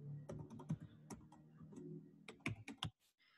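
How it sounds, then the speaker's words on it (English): Quick, light keystrokes on a computer keyboard as a password is entered, arriving as a rapid irregular string of soft clicks up close, then stopping. "So type my password first time."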